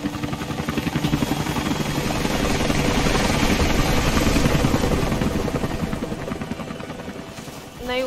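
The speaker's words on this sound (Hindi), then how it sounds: "ऊपर से हेलीकॉप्टर ये देख रहा था ना" Helicopter in the video game Rise of the Tomb Raider passes overhead, a loud steady rotor thrum and engine whine that swells and holds for several seconds before dropping off near the end, with a brief game sound at the close.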